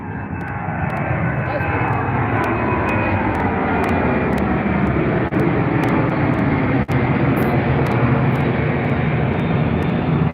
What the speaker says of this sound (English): Nice early takeoff.